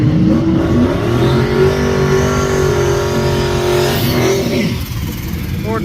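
A drag racing car accelerates hard down the strip at Kentucky Dragway, a loud, sustained engine roar with steady harmonic whine, close and continuous through the clip, fading slightly near the end.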